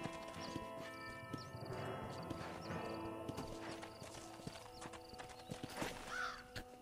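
Horse hooves clip-clopping in Red Dead Redemption on PS3, a quick steady rhythm with an occasional whinny, under ambient game sounds and faint music.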